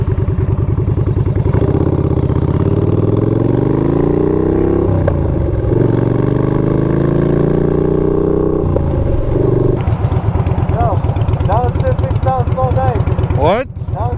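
A Yamaha Bolt motorcycle fitted with Bassani radial sweepers exhaust revs loud and close, its deep throaty engine note rising and falling through gear changes and downshifts, with a voice faintly heard near the end.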